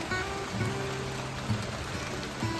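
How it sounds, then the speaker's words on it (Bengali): Heavy rain falls steadily through the early morning, a continuous broadband wash of drops with no voices and a faint low hum beneath it. "তোমরা শুনতেই পাচ্ছ নিশ্চয় যে কি পরিমাণে বৃষ্টিটা হচ্ছে এখন"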